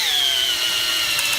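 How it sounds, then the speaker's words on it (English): A cordless power drill whines at high pitch, steadily grinding a 6mm hole through steel belting with a slowly falling tone, loud and close, no voices. "So we can hear it going through the steel belting"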